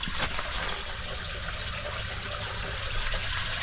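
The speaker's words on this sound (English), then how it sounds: "you can hear the water going down into the big tube" Steady trickling water flowing down into a large pipe, a continuous close-up flow with a hollow rush, running evenly throughout without voices.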